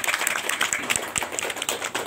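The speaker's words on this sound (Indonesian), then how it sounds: "Tepuk tangan dulu dong buat anak-anak kita." An audience claps, a light patter of many hands close by, steady for about two seconds with no voices over it.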